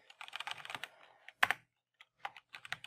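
Keys on a computer keyboard clatter in short bursts of close, quiet typing, broken by brief pauses and a sharper pair of key strikes midway, with no one talking.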